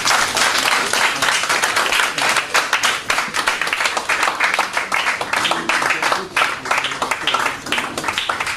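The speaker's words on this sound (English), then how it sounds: "give her a big round of applause" Audience applause after a guest speaker is introduced at a youth talk event, dense steady clapping from a crowd filling the full length, fairly loud and unbroken without talk over it.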